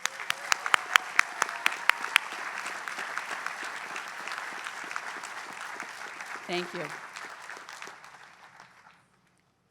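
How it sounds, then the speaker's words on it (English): Audience applause at a Tufts University commencement honoring 2020 graduates, starting with scattered distinct claps and building into sustained clapping that fades out near the end, while a brief spoken thank-you sounds partway through. "Let's give them a round of applause."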